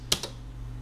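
Two quick keystrokes on a computer keyboard attached to a homebrew 6809 computer, close and clear over a steady low electrical hum.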